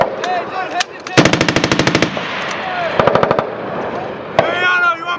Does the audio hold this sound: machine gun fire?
yes